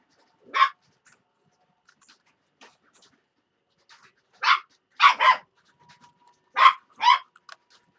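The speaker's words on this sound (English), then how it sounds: "She's barking at me, y'all." A dog barks in short bursts indoors, a single bark first, then a run of four close sharp barks spread over several seconds, moderately loud, with no talk over them.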